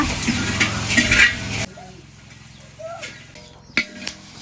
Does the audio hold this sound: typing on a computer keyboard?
no